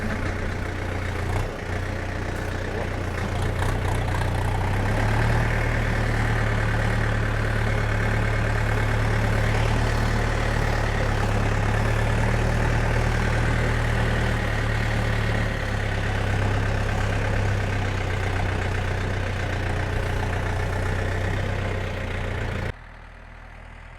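A tractor or truck engine runs steadily at low speed while hauling loaded straw or hay between nearby fields, with a deep, continuous rumble held close and loud before it abruptly drops away at the end.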